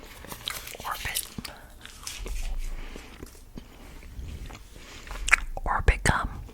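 Soft close whispering over the wet, sticky chewing of Orbit gum, with small mouth clicks and smacks mixed in.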